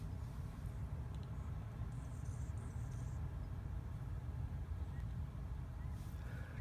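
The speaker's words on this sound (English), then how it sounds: "I don't know if you can hear it, but the ocean, some cars, maybe some neighborhood" Distant cars pass through a seaside neighborhood near the ocean, a faint, continuous low rumble with no distinct pass-bys standing out.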